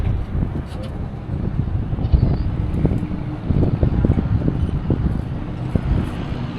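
A floatplane flares and touches down on water with a low rumbling roar mixed with wind buffeting, steady and fairly close throughout.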